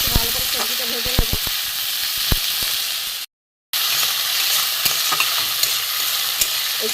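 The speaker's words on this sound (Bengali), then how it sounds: "একটু ভালো করে সবজিটা ভেজে নেব।" Vegetable peels frying with five-spice in a pan give off a steady sizzle, with frequent sharp clicks and scrapes from stirring and one abrupt brief dropout midway.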